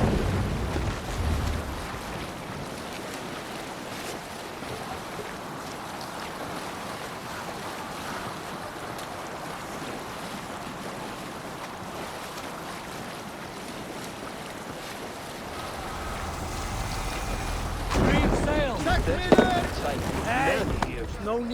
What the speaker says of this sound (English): We must row in these waters. Good sailing wind here, Eivor. More sail!